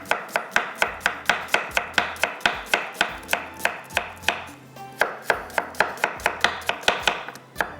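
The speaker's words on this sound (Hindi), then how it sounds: "स्लाइस में कटिंग कर लेते हैं प्याज को" Onions sliced with a knife on a board, a fast, regular run of crisp chopping strikes, close and loud, continuing steadily with no voices.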